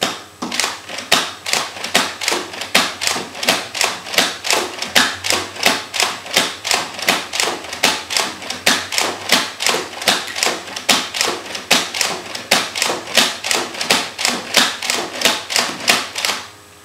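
A Nerf Raider pump-action dart blaster slam-fired with the trigger held while pumping, giving a close, steady run of sharp clacking shots and pump strokes, roughly two per second, with no talk.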